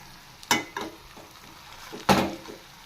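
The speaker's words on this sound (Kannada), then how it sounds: "ಈಗ ಆಲೂಗಡ್ಡೆ ಸೇರಿಸ್ತಾ ಇದ್ದೀನಿ. ಬೇಯಿಸಿ ಮ್ಯಾಶ್ ಮಾಡಿರೋಂಥ ಆಲೂಗಡ್ಡೆ." A spoon scrapes and stirs boiled mashed potato into a hot frying pan, giving a few short scraping strokes, two of them sharper, over a faint background sizzle.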